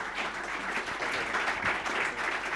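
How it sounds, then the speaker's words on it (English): A short round of applause from the audience at a fireside chat on investment managers, even and steady clapping at moderate level with no speech. "we're all owe you a round of applause for bringing this together for us"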